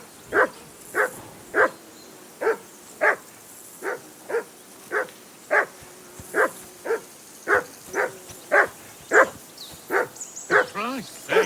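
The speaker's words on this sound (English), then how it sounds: "Call off that damn dog before he wolfs down the last of our mates." Dog in the video game Kingdom Come Deliverance II barking steadily, a long run of evenly spaced sharp barks at moderate distance, with a few whimpering yips near the end.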